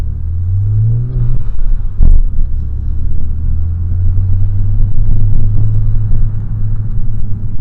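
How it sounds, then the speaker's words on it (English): Vauxhall Vectra VXR engine pulling in third gear, a loud low droning rumble that rises in pitch briefly, dips at a short thump, then steadily builds again, heard from inside the car. "I'll drop it into third, so we're in third now"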